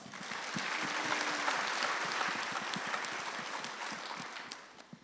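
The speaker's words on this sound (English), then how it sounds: "Let's give him a round of applause." A high school transition night audience applauds a speaker, a sustained wave of clapping that swells early and slowly fades, with faint murmuring beneath.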